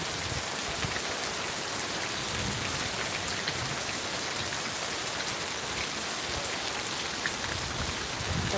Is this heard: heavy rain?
yes